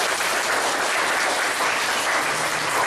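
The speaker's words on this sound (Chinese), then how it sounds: "我觉得是大家给他一个很大的掌声。" An audience breaks into sustained applause, a dense, even wash of many hands clapping together that stays loud and steady with no voices on top.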